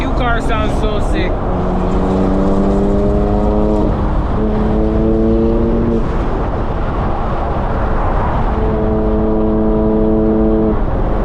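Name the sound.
car engine revving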